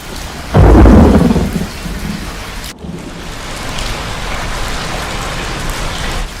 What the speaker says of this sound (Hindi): खिड़कियों पर बारिश की बूंदें गिर रही थीं